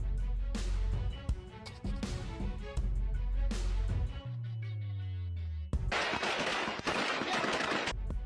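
Gunfire rings out in an armed clash in Nuevo Laredo, Tamaulipas, with loud close bursts of rapid shots, a brief lull with a droning tone, then another heavy sustained volley.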